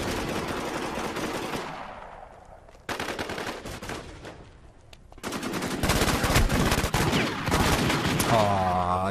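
Dense bursts of rapid gunfire from the video game War Inc. Battlezone, loud and close, breaking off into brief lulls before resuming as sustained automatic fire with ringing tails.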